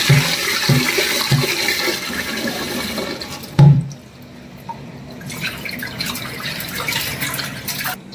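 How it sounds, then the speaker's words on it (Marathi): Sorghum grains being rinsed in water in a home kitchen, with a steady run of pouring, swishing water and dripping close by, one brief louder splash partway through, and no talking. "एक वेळा आणखीन आपण पाण्याने धुवून घेऊ."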